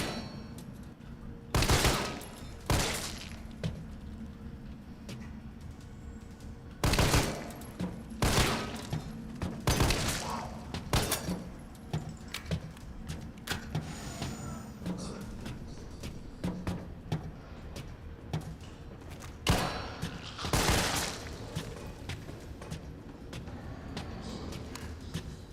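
Repeated bursts of gunfire in Resident Evil 3 Remake, sharp shots in irregular clusters fired against zombies, loud and close over a steady game background.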